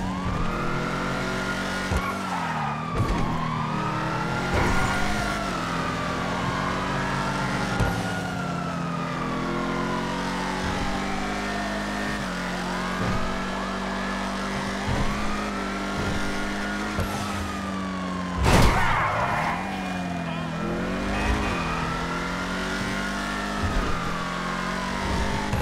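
A car in a video game drives fast through a long stretch, engine revving up and down in repeated gear sweeps, with a loud crash or impact midway and no talking.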